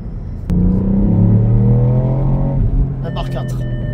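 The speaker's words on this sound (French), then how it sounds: "Donc le turbo souffle à un bar 4" A Ford Puma ST accelerates hard under turbo boost from inside the cabin, its engine note rising steadily in pitch through a gear before easing off, with a voice speaking near the end.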